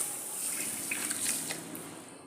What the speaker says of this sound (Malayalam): അതിന് ഞാനിവിടെ കുറച്ച് വെള്ളം ഒഴിച്ചിട്ട് കഴുകുന്നുണ്ട്.